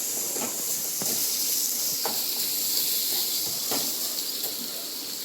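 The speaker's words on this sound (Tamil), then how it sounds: "வெஜிடபிளோட பச்சை வாசனை போகிற மட்டும்தான் வணக்கிறேன்" Vegetables sautéing in a home-kitchen pan while they cook until they lose their raw smell, a steady bright sizzling hiss with a few soft scrapes or stirs, continuous and close with no talking.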